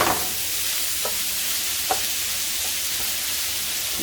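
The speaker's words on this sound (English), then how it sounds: "I'm gonna saute this so it gets a little bit of like a little brown on it" Ham sautéing in olive oil in a pan for a cheddar broccoli potato soup gives a steady, soft sizzle with a few faint utensil taps or stirs, close and continuous, with no talk.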